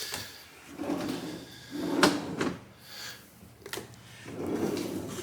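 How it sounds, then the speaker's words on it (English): Soft-close kitchen drawers in a mobile home being shut one after another, several gentle muffled thuds and slides close by, with no talking. "So there's the kitchen drawers"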